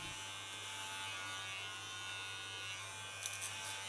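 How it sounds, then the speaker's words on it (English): An electric hair clipper cuts silver-gray hair into a short pixie style. The buzz is a steady, close hum on its own, with a few faint clicks near the end. "Guide the clipper."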